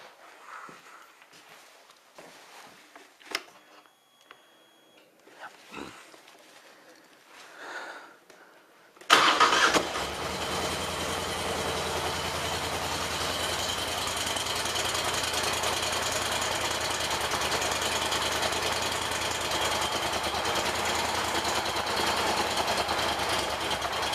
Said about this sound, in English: we'll do a Grammy cold start to the four-wheeler